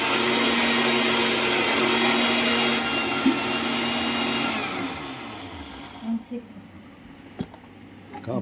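An electric grinder or blender runs steadily with a loud whirring drone for about five seconds, then winds down and stops, in a home kitchen in Manipur while chicken is being prepared; a few clicks and knocks follow, and people talk.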